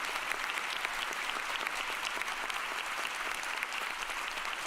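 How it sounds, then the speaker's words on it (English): Applause sound effect played at a creative-ideas talk, a steady wash of many hands clapping at even loudness for the whole stretch, with no voices over it. "I have the applause sound effect. I can play that real quick."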